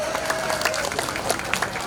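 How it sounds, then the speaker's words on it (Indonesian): Brief applause from a gathering at a neighborhood prayer hall for the local RT head, a short burst of crowd clapping with a voice heard over it. "Boleh tepuk tangan buat Pak RT kita."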